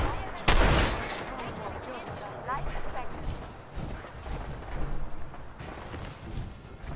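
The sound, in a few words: gunfire in the video game Fallout 4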